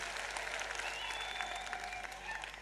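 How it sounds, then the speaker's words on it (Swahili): Audience applause at a political rally in Kenya, a steady, dense wash of clapping from a crowd that holds evenly throughout at a moderate distance, with no voices rising above it. "Wapigieni makofi tena."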